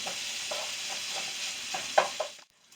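Brussels sprouts with garlic crisping in a frying pan give a steady soft sizzle, with a few louder stirring clicks near the end before it cuts off.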